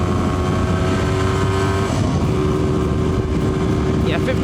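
A single-cylinder motorcycle ridden slowly in a high overdrive gear, its steady engine drone close and continuous, with a faint voice briefly over it near the end.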